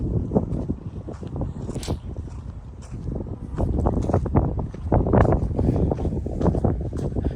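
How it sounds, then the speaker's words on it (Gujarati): Strong wind buffets the microphone in loud, continuous low rumbling gusts in a village on a cloudy day, swelling and easing throughout with no voices. "પવન એટલો બધો છે ને આજે"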